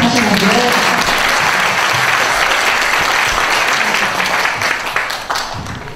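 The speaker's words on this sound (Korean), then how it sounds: "여러분 다시 한번 박수 하시는데요" An audience at a book concert in Jeju breaks into loud, dense applause that fills the hall, sustained for several seconds before gradually thinning out.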